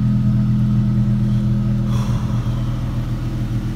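A car engine drones loudly at a steady idle, with a brief rise in revs partway through before settling back to a low rumble.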